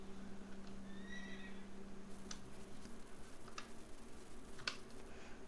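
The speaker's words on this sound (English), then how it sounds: "Let's try and get this horse." A horse in the video game Quinfall whinnies a few times, faint high calls over a low steady hum, followed by scattered soft clicks and clops.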